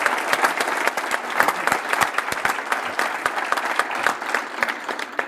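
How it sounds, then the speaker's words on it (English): Audience at a university men's basketball coach's introductory press conference gives a round of applause, a steady close wash of many hands clapping with crisp individual claps standing out throughout. "give him a round of applause for his leadership to our institution"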